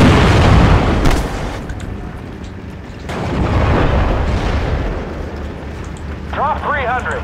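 Rocket artillery barrage in Steel Division: Normandy 44 booms and rumbles in heavy rolling waves, loud and continuous, with distant thuds and a brief whistling sound near the end.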